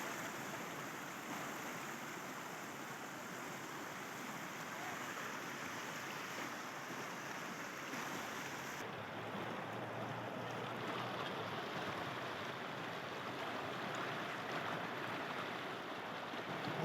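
The Poonch river in Kashmir rushing past, a steady, broad roar of flowing water heard up close and unbroken, with no voices over it.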